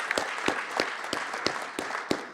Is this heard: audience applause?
yes